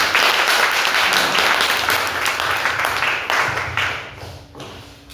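A church congregation claps together in praise during a service, a dense sustained burst of many hands that gradually thins and fades toward the end, with voices faintly mixed in.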